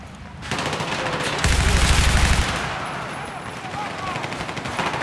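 Rapid automatic gunfire from an online multiplayer shooter rattles in dense, continuous bursts, loud and close, with one heavier volley in the middle before it settles into a lighter stream of shots.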